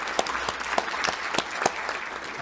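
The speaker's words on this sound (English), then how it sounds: "I want to give a quick round of applause for everyone." Audience applause at a Rotary club meeting, a steady patter of clapping with a few sharper individual claps, moderately loud and without talk.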